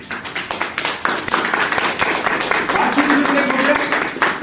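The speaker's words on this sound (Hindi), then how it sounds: "ममता जी के लिए जोरदार तालियां।" An audience claps for a woman named Mamta at a nutrition sales seminar, a burst of rhythmic hand claps that swells into dense, loud applause for about four seconds.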